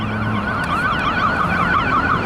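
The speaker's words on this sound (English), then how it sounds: "Way down there, I seen an ambulance." Ambulance siren wailing in a steady rising and falling pattern, heard from a distance across an open area in Austin, loud enough to stand out alone over faint traffic hum.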